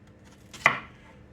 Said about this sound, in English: Now let's get to chopping these up